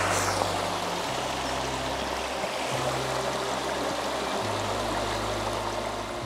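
A river flows steadily and fairly loud, with a broad continuous rush of water and low rumbling undertones throughout.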